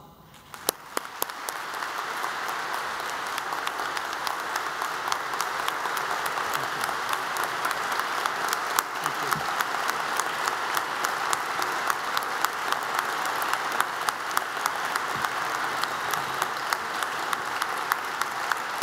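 A large audience applauds steadily after a speaker, inventor and entrepreneur Dr. Singh, is introduced on stage; dense, sustained clapping fills the room at an even level for nearly twenty seconds, with no talking over it.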